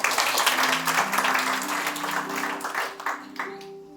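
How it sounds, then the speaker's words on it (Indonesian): A church congregation claps together in a steady, full round of applause that gradually tapers off, with faint sustained tones lingering underneath. "Berikan tepuk tangan buat Tuhan."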